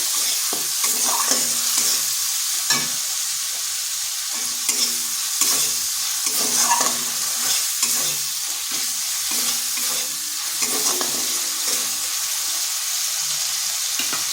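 Ginger garlic paste fries in a pan for a fish and elephant foot yam curry, giving a loud, steady sizzle with frequent rhythmic scraping and clinking as a spoon stirs it close by.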